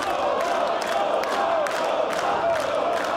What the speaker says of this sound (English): you can hear this Turbine Halle crowd cheering Yota